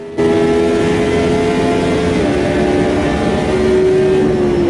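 Retro Formula 1 car engine in the Automobilista 2 racing game, climbing a hill: a loud, sustained high-pitched engine drone with harmonic tones rising steadily, no speech over it.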